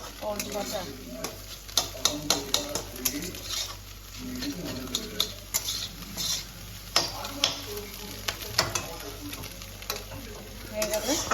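Six eggs fry in a pan for chow mein, a steady sizzle broken by frequent clattering scrapes and taps of a spatula stirring against the metal, close and continuous.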